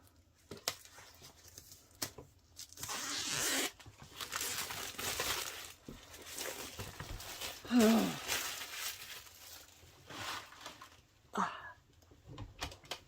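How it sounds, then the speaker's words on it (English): Plastic wrapping is cut with a knife and peeled off a package, giving intermittent crinkling, tearing and rustling bursts at close range, fairly quiet throughout. "see if that's enough to get this plastic wrapping off"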